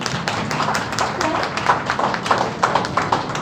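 A seminar audience claps for a faculty member at close range, the claps dense and uneven at first and then turning into louder, more distinct individual hand claps.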